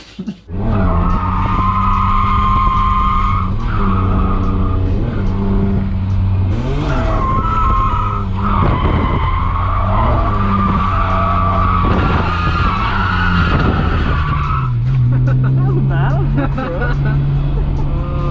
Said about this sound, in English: drove to Queensland Raceway and went and skidded it